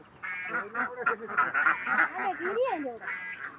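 Ducks let loose in a stream quack steadily and close by, a busy run of overlapping nasal calls with no real pauses.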